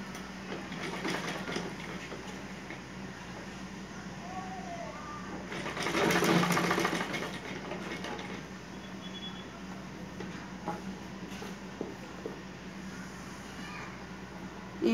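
A sewing machine stitches a seam on a pair of pants, a steady mechanical whir running the whole time with a louder burst in the middle and faint rattles.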